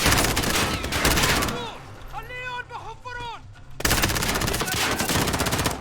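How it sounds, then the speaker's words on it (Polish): Gunfire in Call of Duty Modern Warfare: dense bursts of rapid automatic shots, loud and close, break off for a couple of seconds while voices call out, then resume as continuous rattling fire. "Ktoś tam we mnie strzela jeszcze!"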